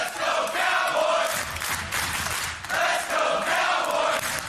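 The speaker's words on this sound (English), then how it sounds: "you can hear this crowd here at the NWA Arena cheering on James Storm" Wrestling crowd at the NWA Arena cheering and chanting, a loud roaring mass of voices that swells, dips briefly midway, then surges again.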